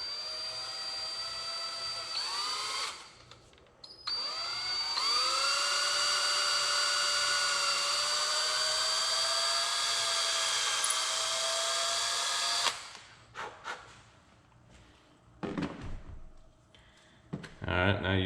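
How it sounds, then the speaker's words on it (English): A small power drill bores into the end of a wild rose arrow shaft with a high, steady whine, briefly stopping and restarting before one long run. Someone talks between the bursts. "So I'll drill it out pretty deep."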